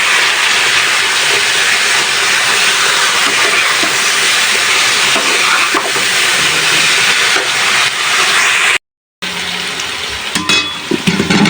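Fish and spices frying together in a pan for a bottle gourd curry, giving a loud, steady sizzling hiss close up that runs almost the whole time, broken by one brief silent gap.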